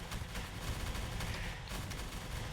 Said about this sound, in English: As artillery, again, just another artillery duel.